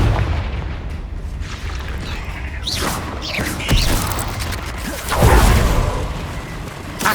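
A Confringo blasting spell fires in Hogwarts Legacy amid ongoing combat, giving a few booming, explosive hits that swell loudly around the middle and later part over a dense layer of battle noise.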